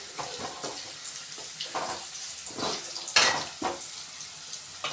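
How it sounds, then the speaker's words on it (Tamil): Onions and slit green chillies sauté in a hot pan for a South Indian fish curry, a steady close sizzle broken by scraping stirs and a sharper clatter midway, with no talking. "பாருங்கள், ஆனியன்னு நல்லாவே வதங்கிடுச்சா."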